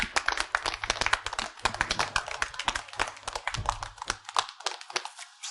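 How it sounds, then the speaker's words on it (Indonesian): Dense clapping from a small crowd welcoming newlyweds at a wedding, close and lively, with hands beating quickly and unevenly before thinning out near the end. "mari kita berikan tepuk tangan yang meriah"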